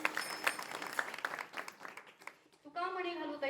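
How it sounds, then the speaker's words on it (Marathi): Applause from a kirtan audience, a brief scatter of claps up front that fades out before a singing voice takes over near the end. "सुंदर यांच्याकडे सगळ्या टाळ्या वाजवतात."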